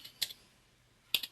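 Two soft, brief double clicks of keys on a computer keyboard, about a second apart, as a sample ID is typed into data software in a quiet room.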